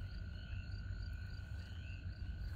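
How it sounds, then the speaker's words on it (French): Toads calling outdoors in the evening at an industrial zone in Gironde, France: faint, soft, regular trilling notes held steady against a low background rumble, distant and continuous with no talking. "Nous avons des crapauds"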